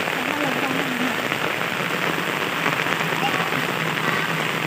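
Steady rain pours down, a dense, even hiss of drops hitting surfaces, loud and continuous throughout.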